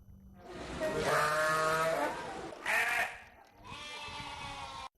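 Sacrificial sheep bleating loudly in several long, wavering calls close by, with brief gaps between them and an abrupt stop at the end.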